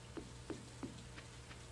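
Rain falling in the farming video game Stardew Valley, a faint, steady patter with soft, evenly spaced ticks over a low background hum.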